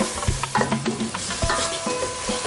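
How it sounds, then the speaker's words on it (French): A spoon stirring sauce in a pan for a mini golden galette recipe, with scraping strokes and knocks against the pan over a light sizzle, close and steady with no talking. "Et on remue notre sauce."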